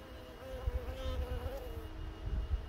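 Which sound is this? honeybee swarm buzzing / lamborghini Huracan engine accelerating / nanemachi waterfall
honeybee swarm buzzing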